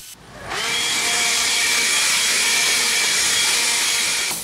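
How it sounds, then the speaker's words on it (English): Loose debris blown out of a lawn mower deck with a blower, a loud steady rushing whoosh that starts abruptly and holds for several seconds close by. "I blew out the loose debris again"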